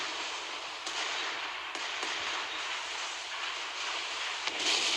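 Secondary guns fire from the Illustrious warship in the naval game Naval Creed, a few sharp, distant reports spaced irregularly over a constant roar of background battle noise.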